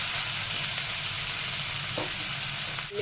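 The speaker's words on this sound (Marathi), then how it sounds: "आता आपण आहे ना हा कांदा साधारण पाच मिनटं तरी स्लो गॅसवर छान असा परतून घेणार आहोत" Onion softening in a pan over a low gas flame while making kande pohe, with a quiet, even sizzle throughout and a faint clink near the end.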